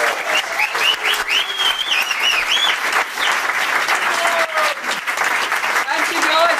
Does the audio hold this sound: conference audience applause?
yes